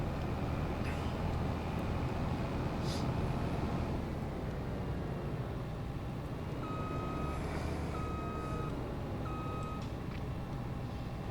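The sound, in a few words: vehicle reversing beeps while parking, from a video game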